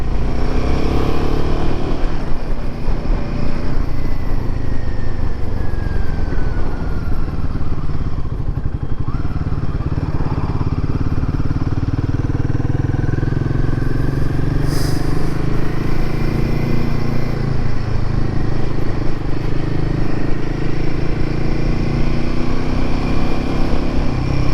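A Royal Enfield Himalayan 450 motorcycle is ridden, its engine droning loud and close throughout with shifting revs and some clatter and wind rumble, without speech.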